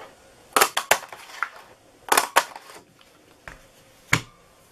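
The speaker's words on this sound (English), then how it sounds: "we are going to punch out 4 from the Marina Mist" A craft paper punch cuts shapes from Marina Mist cardstock, making crisp, close snapping crunches in small clusters with quiet pauses between them.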